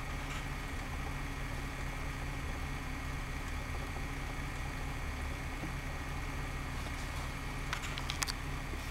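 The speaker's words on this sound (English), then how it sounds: "We'll see if it'll idle." A 1977 Ford engine idles after a cold start, a steady loud low rumble that holds evenly throughout, with a few faint clicks near the end.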